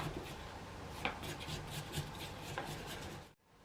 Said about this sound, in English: Using a knife, stir in the flour. Scrape down the sides.